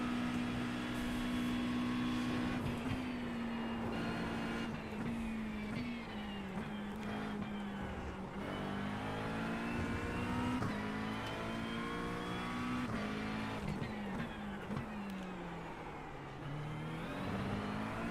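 A Skip Barber race car engine in the iRacing sim drones steadily and loud for the whole stretch, its pitch rising and falling through gear shifts and corners with no talk over it.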